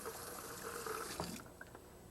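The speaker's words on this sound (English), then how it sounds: "I'm going to wash my hands again." Hands being washed under a running kitchen tap while cooking, a steady close stream of water with soft splashing and a brief clatter near the end before the flow cuts off.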